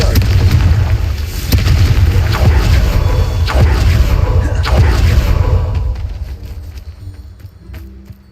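A Confringo spell explodes in Hogwarts Legacy, a series of heavy booms and bursts rolling over a dense, loud rumble that gradually fades away toward the end.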